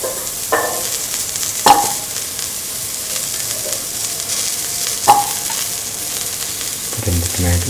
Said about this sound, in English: Now put in the carrot pieces.